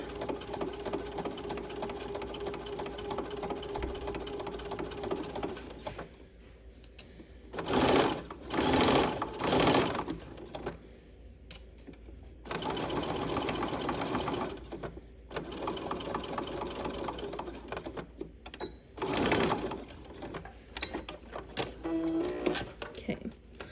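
A sewing machine stitching a welt pocket seam runs in long loud bursts of rapid mechanical whirring, stopping and restarting several times with brief quieter gaps, close by.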